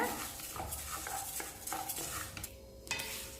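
Black urad dal dry-roasts in a pan, with quiet, rhythmic stirring scrapes and light rattling of the lentils against the metal over a few seconds.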